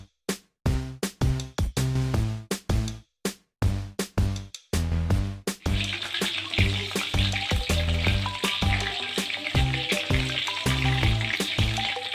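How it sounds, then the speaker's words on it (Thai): Chicken frying in oil over medium heat: a few seconds of broken clattering at first, then a steady, loud, continuous sizzle and bubbling with light stirring taps throughout. "เราใช้ไฟปานกลางในการทอดนะคะ"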